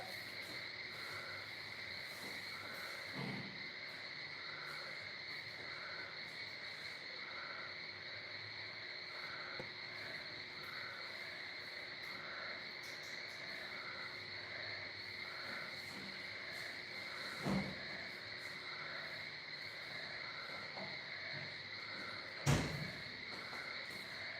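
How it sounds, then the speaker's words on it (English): Frogs and insects call steadily outdoors in rainy season, a dense continuous chorus of high trilling and pulsing croaks, with a few brief knocks standing out against it. "I wonder if y'all can hear those frogs out there."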